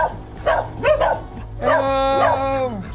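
Several dogs bark and yip excitedly at close range in short bursts, followed by a longer whining, howling bark.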